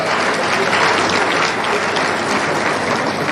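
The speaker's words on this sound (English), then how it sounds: "So please give yourself a hand of applause." A conference audience at an annual accountants' gathering claps loudly and steadily, a dense, even wash of applause from many hands that holds at full strength throughout.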